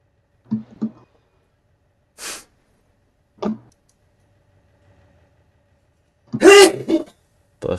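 A single sharp sneeze bursts out loudly near the end, after a few scattered soft clicks and short throat or breath noises in an otherwise quiet room.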